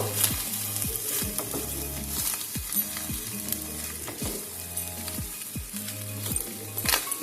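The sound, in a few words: stirring fried rice sizzling in a pan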